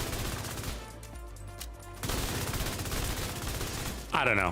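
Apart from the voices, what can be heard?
gunfire from a gun in the video game The Division 2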